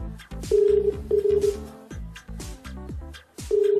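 An unanswered telephone call rings out during a Filipino noontime TV segment in Marikina, with loud repeated ringing bursts separated by short gaps, playing over other background sound.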